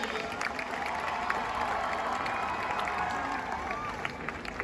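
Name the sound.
crowd applause and cheering at welcome ceremony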